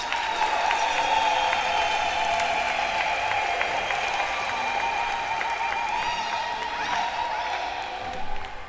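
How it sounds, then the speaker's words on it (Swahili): Wedding congregation at a church ceremony clapping and ululating together, a dense continuous wash of applause with high trilling voices layered on top, steady and loud for the whole stretch. "tuwashangilie kwa makofi na nderemo"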